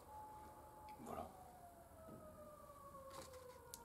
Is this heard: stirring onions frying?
no